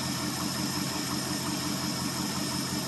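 A 1970 Ford F100 Ranger XLT with a 390 FE V8, idling after a cold start following about three years of sitting, a steady, even rumble heard up close with no voices.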